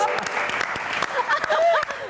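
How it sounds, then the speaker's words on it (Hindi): Studio audience claps on a television entertainment show, a light burst of applause with scattered sharp hand claps, mixed with brief voices and some tonal background sound. "बहुत सारी तालियां"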